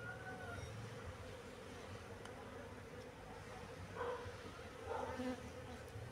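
A swarm of honeybees drones steadily as it is moved into a hive box, a faint continuous buzz that swells briefly louder a couple of times.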